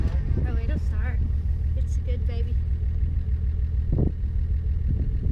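A rusty Datsun 280Z engine idles steadily just after starting, a low constant rumble close by, while people talk over it.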